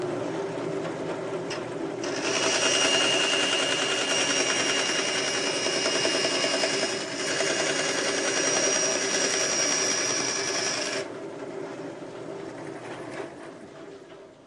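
Bandsaw in a machine shop cutting down metal stock: a steady whining motor drone with a dense, sustained high-pitched cutting hiss lasting several seconds, then easing back to the idling motor, close and fairly loud.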